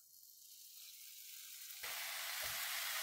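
Shaved steak dropped into a hot pan on high heat: a low hiss suddenly jumps into a loud, steady, close sizzle, with a brief clatter of stirring.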